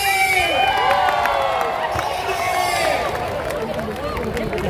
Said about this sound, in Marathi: प्रत्येक बॅच साठी टाळ्या वाजल्या पाहिजे.